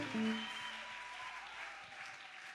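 A church congregation claps for God during a worship service, a dense, fairly soft burst of applause lasting a couple of seconds with no talking.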